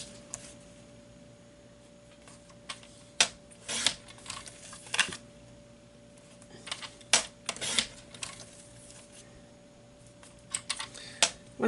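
Paper trimmer slicing cardstock at a card-making workshop, producing several sharp, brief cutting strokes in irregular succession over a steady low room hum, close and fairly clear.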